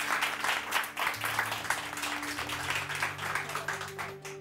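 Applause from a studio audience during a Pakistani morning show, a steady wash of clapping that carries on throughout, with a low tonal hum underneath.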